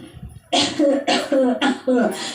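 An old woman lying on a broken-down cot coughs from thirst, letting out four hoarse, voiced coughs in quick succession, loud and close, after a brief low murmur.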